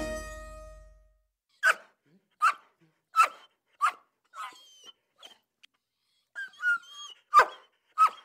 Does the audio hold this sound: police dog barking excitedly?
yes